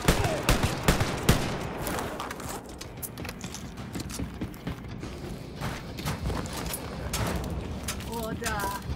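Gunfire in the video game Wolfenstein: Youngblood crackles in quick bursts of sharp shots alongside mechanical clicks and rattles, with voices talking intermittently.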